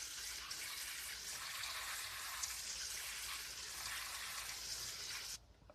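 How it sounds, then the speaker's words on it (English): Water pours steadily from above into a potted Japanese maple, a soft continuous hiss and trickle close by that stops abruptly near the end, with no talking. "substantial amount of water, and I've quite flooded that in"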